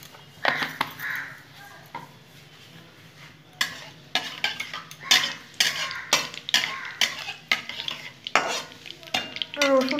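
Black cumin seeds frying in plenty of hot oil, a continuous sizzle overlaid with frequent clattering stirs and utensil knocks against the pan.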